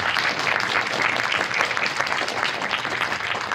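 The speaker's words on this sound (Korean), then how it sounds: "세 분의 게스트를 큰 박수로 맞이해 주시기 바랍니다" Audience at a film screening Q&A event welcomes three guests with sustained, even applause, a dense wash of clapping that stays loud and unbroken from start to finish.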